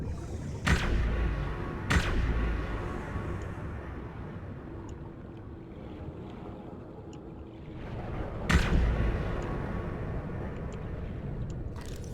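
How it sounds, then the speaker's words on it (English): A repulsion cannon fires at leeches clinging to a submarine in Subnautica, with sharp blasts near the start and another later over a low rumbling underwater ambience, no talk. "I do have this neato repulsion cannon"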